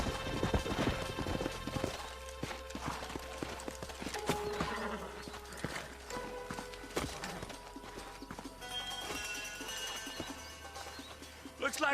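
Horses in Red Dead Redemption trot and clop along a trail, steady hoofbeats close by with jingling tack, over background music and occasional speech.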